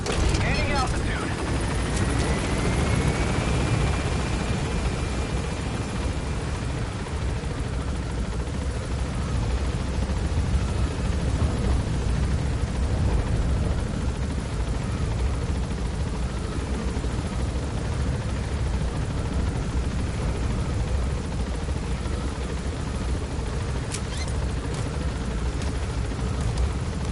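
Helicopter climbing in Metal Gear Solid V: The Phantom Pain, a steady loud rotor and engine roar holding throughout with a rising whine early on and faint game effects layered over it.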